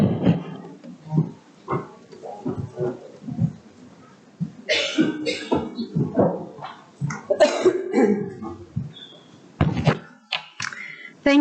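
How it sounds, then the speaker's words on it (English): Repeated coughing and throat clearing from a woman at a conference on HIV-related stigma, heard as a series of harsh bursts over about eleven seconds, close to the microphone, with no speech among them. "Apologies for possibly coughing a little bit"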